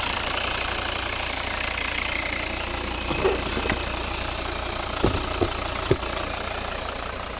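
A 2011 Volvo V60 with a 2.0 D4 diesel engine and automatic gearbox idles smoothly, giving a steady, quiet, even hum with a few light knocks and clicks toward the end.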